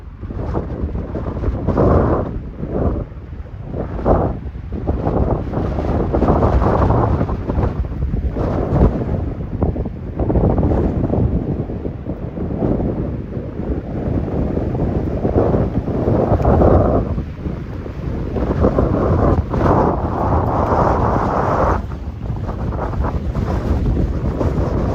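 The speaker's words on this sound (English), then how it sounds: "It's picked up a lot. The wind is crazy." Strong gusting wind buffets the microphone on a hike beside a lake, a loud continuous roar that surges and eases for the whole stretch, with no voices.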